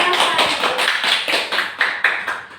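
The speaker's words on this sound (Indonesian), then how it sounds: "Tepuk tangan untuk Hilda." A classroom of students claps for a classmate, a quick run of sharp, moderately loud claps that thin out toward the end.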